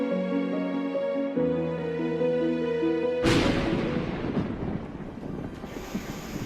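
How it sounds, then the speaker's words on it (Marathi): Floodwater gushes from a burst dam in Baramati, a loud, roaring rush of water that takes over abruptly after a stretch of tonal music and keeps surging steadily. "बारामतीमध्ये बंधारा फुटल्यानं पाण्याचे लोट वाहू लागले"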